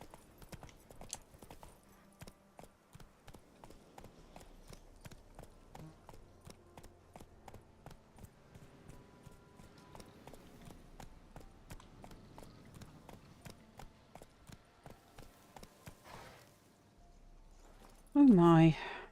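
Horse galloping in the video game Witcher 3, rapid rhythmic hoofbeats drumming steadily for most of the stretch, then stopping before a brief loud burst near the end.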